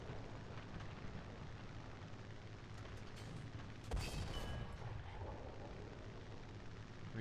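Tank cannon fire in the War Thunder video game, a steady rumbling barrage with a sharper, louder blast near the middle, dense and continuous, with no talk over it.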